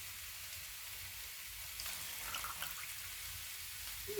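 Broccoli cooking in herb pan juices on an Outbacker camping stove at a cabin, a soft continuous sizzle and hiss with faint crackles, fairly quiet throughout.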